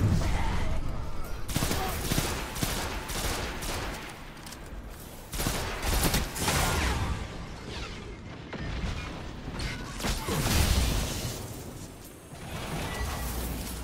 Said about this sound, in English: Oh, it's another bomb.